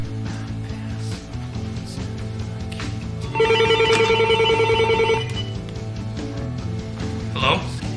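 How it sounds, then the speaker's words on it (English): A telephone rings with a steady electronic bell trill for about two seconds, clear and fairly close, over a constant low background hum. "Phone."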